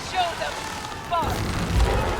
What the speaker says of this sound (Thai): เรือระเบิดเลยเหรอ